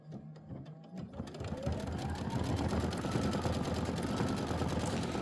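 A sewing machine stitching a decorative applique stitch on a quilt block runs up to speed after a few handling clicks, then keeps a steady, close, rapid mechanical whir.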